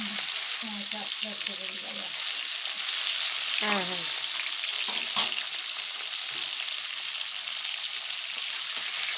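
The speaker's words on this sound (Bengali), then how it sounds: "ওই মাছ ভাজা হয়ে গেছে, এবারে মাছগুলোকে এক এক করে সব তুলে নেব" Fish fry in a pan of hot oil, giving a steady, close hiss and sizzle throughout, with a voice speaking briefly early on.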